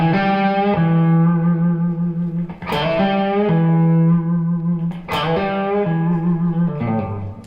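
A heavily saturated, distorted electric guitar playing a blues tone rings out in sustained chords, each held and then restruck, thick with overtones and reverb.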